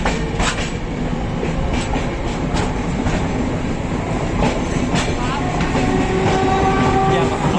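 The 16311 Kochuveli Express rumbles steadily, heard on board with continuous rail noise and clatter, a sustained tone rising late on as it picks up speed.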